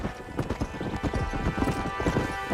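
A horse gallops in the video game Red Dead Redemption, its hooves pounding in a fast, steady drumming rhythm that stays close and loud throughout, with a brief snort or whinny mixed in.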